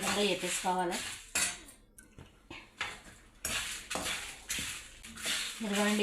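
Dry red chillies with coriander seeds and cumin are fried in a little oil, and a spoon clatters and scrapes repeatedly against the pan while voices are heard at the start and end.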